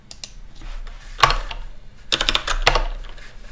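Computer keyboard typing code, with clusters of clicky keystrokes in short bursts separated by brief pauses, close and moderately loud over a low room hum.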